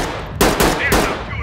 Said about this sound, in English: I shot him in the back of the head